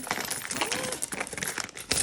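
Coins pour and jingle in a dense metallic clatter, spilling into a plastic bag, with a brief pause and a final rattle near the end.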